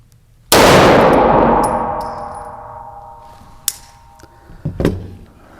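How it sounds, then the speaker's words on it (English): A single Staccato XL pistol shot rings out loud and close, followed by a long decaying metallic clang from the hit steel target, then a few faint knocks and clicks. "I'm going to fire one shot center X"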